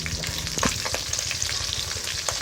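Mackerel fries in a pan of hot oil, a continuous soft crackling sizzle with a few brief spatula scrapes and pops, heard close and fairly quiet.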